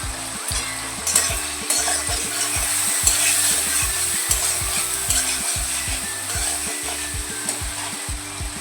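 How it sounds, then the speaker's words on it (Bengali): Rohu fish fat frying in hot oil in a pan, a steady loud sizzle with regular scraping stirs from a spatula repeating throughout, no voices. "ভাজা ভাজা করে নেবো মাছের তেলটা"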